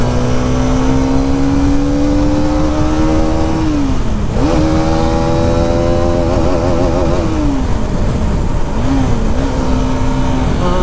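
A Hero Karizma XMR 210 motorcycle on the move gives a loud, continuous engine drone close to the listener, its pitch sliding down and back up through several gear shifts and throttle changes.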